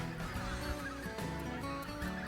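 White-fronted geese honking steadily over a dense, busy background, with repeated goose calls layered throughout the short stretch, fairly close and loud.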